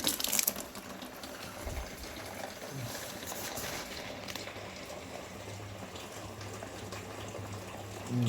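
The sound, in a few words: water running into a container during tiling renovation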